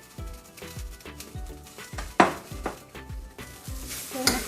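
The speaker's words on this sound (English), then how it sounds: "We're going to cook for a few minutes until the oats gets a little bit of fry, a little bit in the oil." Oats frying in a little oil in a pan for upma, with a soft sizzle under a rhythmic series of spoon scrapes and light metal knocks against the pan.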